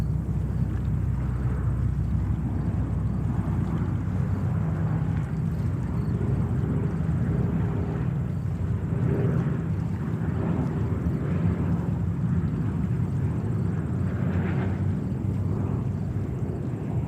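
An ANA jet airliner departing from New York on flight 109 to Tokyo Haneda, a steady, loud broadband engine roar that holds constant throughout with faint wind buffeting.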